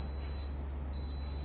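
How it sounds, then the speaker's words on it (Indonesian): A three-compartment refrigerator sounds its open-door alarm: a thin, high electronic tone held steady, cutting out briefly and then resuming, over a low mechanical hum, with no talking. "Canggihnya kalau pintu kulkas ini kelamaan dibuka, bakal bunyi alarm kayak gini."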